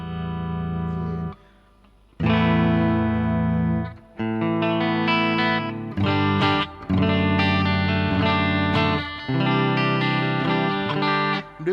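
Bright Geneberg Astro mini electric guitar with a single bridge pickup, played fairly clean with no effects, loud strummed chords and picked notes in short phrases separated by brief pauses.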